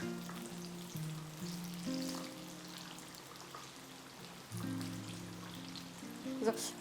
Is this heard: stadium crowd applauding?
no